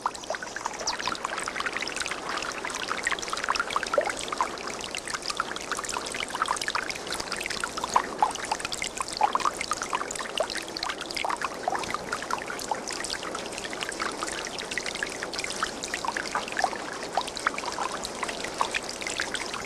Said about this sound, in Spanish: era distribuida por canales y jugaba en fuentes y cascadas hasta el templo del agua